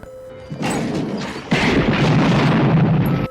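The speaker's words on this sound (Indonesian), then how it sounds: "Seketika rumah itu pun meledak" A loud gunshot bursts out, then a second, heavier explosion of a house as gas ignites follows with a roaring, crashing rumble that carries on.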